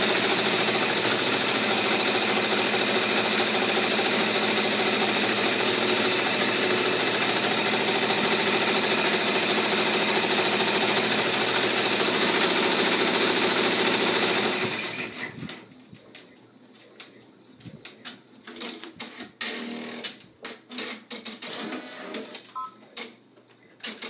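An embroidery machine stitches a troll girl applique tack-down outline, a steady mechanical whir for about fifteen seconds that stops abruptly, followed by faint clicks and handling noises.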